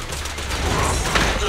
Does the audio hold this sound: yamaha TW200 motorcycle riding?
no